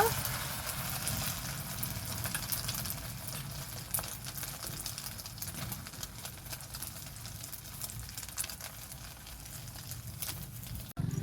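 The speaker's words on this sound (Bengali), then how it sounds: "সবগুলো একইভাবে ভেজে নেব।" Eggs fry in oil in a pan for Bengali egg curry, a steady crackling sizzle that runs loud and unbroken throughout, close up, with a voice speaking faintly beneath.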